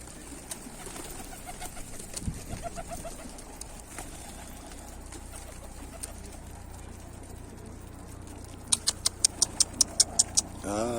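Pigeons coo softly amid rustling and shuffling noise around a feeder, followed near the end by a quick burst of sharp, repeated flapping or pecking sounds.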